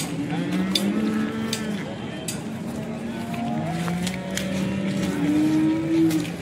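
Drawn-out lowing of a cow nearby at a cattle market in Sangola, rising and falling, against a steady background of outdoor noise and possible engine hum.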